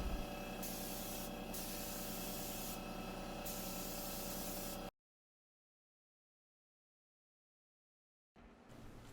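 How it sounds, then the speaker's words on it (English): A spray gun lays top coat onto a Gothic-style painted furniture piece in several steady, loud hissing bursts, then cuts to silence before a quieter room sound returns at the end; no speech. "I apply 2 layers of top coat to the piece to seal in"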